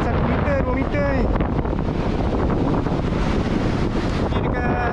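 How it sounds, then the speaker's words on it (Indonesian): Strong monsoon wind buffets the microphone at Long Beach during a big high tide, with large waves crashing behind a continuous loud roar of wind. "Tapi angin kuat gila, tengok ombak."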